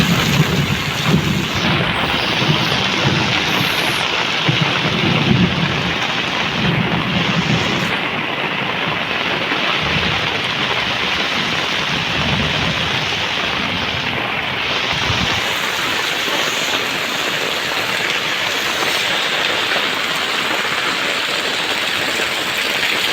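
Heavy monsoon rain during flooding in Junagadh roars as a loud, dense, continuous wash, with low thunder rumbles swelling beneath it early on; no one speaks.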